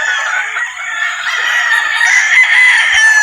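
Pure Boston Roundhead gamefowl roosters at a game farm in Batangas crow loudly and close by, with long overlapping cock-a-doodle-doo calls that continue without a break, joined by a few faint clucks.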